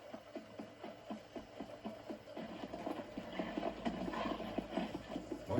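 Rhythmic horse hooves clip-clopping at a steady trot in the video game Red Dead Redemption, growing busier and louder toward the end over a faint background hum.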